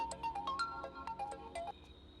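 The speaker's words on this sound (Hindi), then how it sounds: "वानी का फोन है।" A phone ringtone plays a short, bright electronic melody of quick repeated notes, fairly quiet and alone, with no talking over it.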